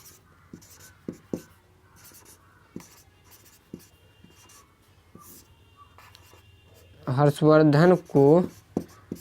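Pen writing notes by hand, soft scratchy strokes and light taps close by and faint, followed by a short burst of a man's speech near the end.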